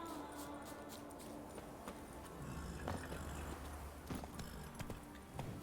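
The horse Roach's hooves clip-clop in a steady rapid gallop in The Witcher on Ard Skellig, over a constant wash of game ambience and wind.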